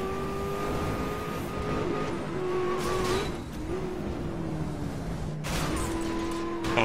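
A racing car engine in Need for Speed revs and shifts through gears, pitch climbing and dropping, with a few sharp backfire pops at the shifts; no voices.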